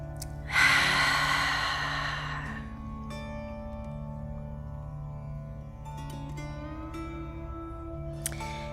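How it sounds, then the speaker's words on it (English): A deep, breathy exhale during a prenatal yoga session, one long sigh-like breath near the start, followed by quieter steady breathing over a low hum. "Keep breathing deeply."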